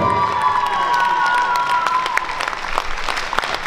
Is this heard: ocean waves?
no